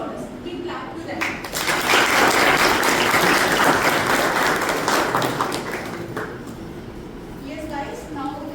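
Loud applause from a conference audience bursts in, holds for several seconds, then fades into scattered claps before talk resumes.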